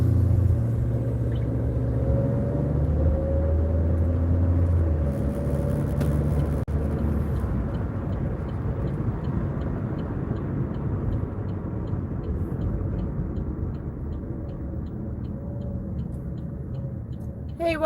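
A loud car engine rumbling nearby, a heavy low drone that holds steady and then eases slightly into a broader rumble.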